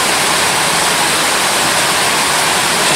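Waterfall at the Devil's Cauldron heard from close to the water among rocks, a loud, steady, dense roar of rushing water that fills the whole stretch without pause, no voices.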